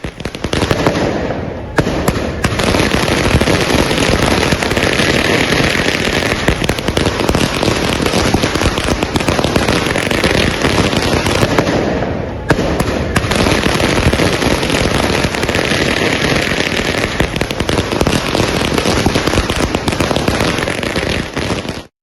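Fireworks and firecrackers set off by Congress party workers at a street celebration in Hyderabad, a dense, continuous crackling barrage of rapid pops and bangs at full loudness throughout, with a brief lull near the start and another midway.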